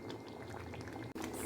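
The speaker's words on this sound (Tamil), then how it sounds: "ஒரு அரை கிளாஸ் போல் தண்ணி ஆட் பண்ணிக்கலாம்" Half a glass of water poured into simmering chicken kurma, a steady close liquid pour and bubbling hiss throughout with a brief break near the end, with no talking.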